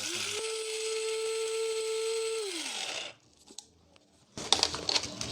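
An electric grinder whirring steadily as it grinds spices into powder for about three seconds, then winding down, followed by faint clattering and rattling of the jar and lid.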